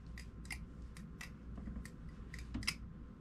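A titanium HOM Basilisk balisong knife, freshly lubed, is flipped in quick succession, giving a string of light, crisp metallic clicks and clacks at close range over a low background hum.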